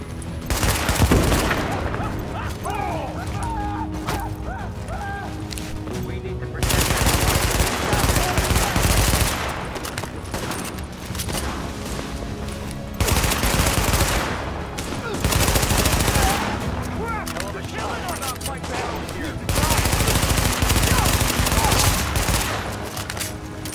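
Sustained automatic gunfire in the video game The Division comes in loud, dense bursts that alternate with quieter stretches of scattered shots across a busy combat scene.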